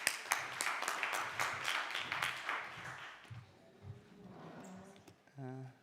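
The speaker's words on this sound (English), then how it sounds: "let's welcome him with applause" An audience at a conference on accessible ICT in Europe gives scattered, moderately loud applause that fades away over a few seconds.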